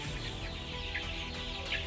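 Five-week-old white and brown chicks, the white ones young cockerels, cluck and chirp together as a steady, dense flock murmur at moderate volume, with no one speaking.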